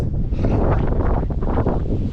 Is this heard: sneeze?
no